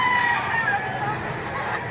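Chickens crow and cluck amid the bustle of a Saturday poultry market in Lipa City, Batangas, the birds loud and close with a busy background of voices.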